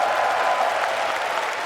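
Live esports crowd at the FACEIT Major London 2018 Counter-Strike event applauding and cheering after a Mirage show match, a steady, even wash of clapping from a large hall audience.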